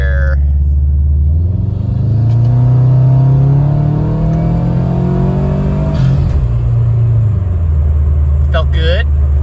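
A turbocharged car fitted with a Turbosmart internal wastegate accelerates hard up to about 60, its loud engine note climbing steadily, easing briefly, then building again, close and constant throughout with short bursts of speech at the start and end.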